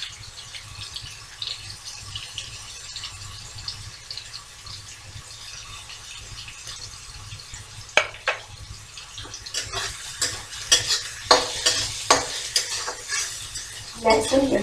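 Grated ginger, garlic, green chili and onion sizzle in a hot pan, a steady frying hiss with intermittent metal spoon scrapes and stirring clatter growing louder toward the end.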